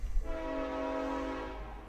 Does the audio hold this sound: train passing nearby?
yes